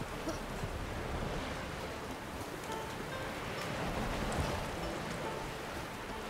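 Steady rain in the video game The Witcher 3, a continuous hiss of falling drops with low rumbling undertones, even and unbroken throughout with no clear speech over it.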